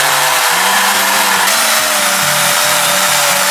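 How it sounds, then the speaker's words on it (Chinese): A chainsaw runs loud and close while trees are cut down during a garden clearance, its engine droning continuously with a pulsing, uneven rhythm as the chain bites into wood. "拿着电锯开始来锯树了"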